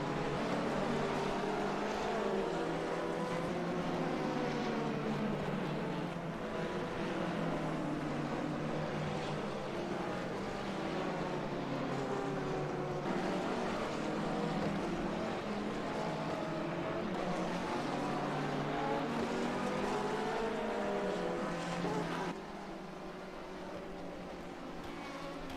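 Racing car engines in a sports car racing video game, a BMW among them slowing into a braking zone; a steady loud engine drone holds throughout, dropping in level near the end.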